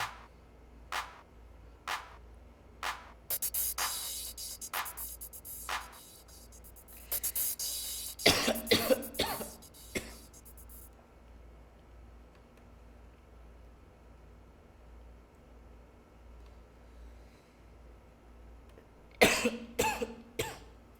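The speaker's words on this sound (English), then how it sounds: "I have had a cough for like 6 months" Repeated sharp coughs come at intervals, then a cluster of harsher coughs and throat clearing, a long quiet pause, and a final burst of coughing.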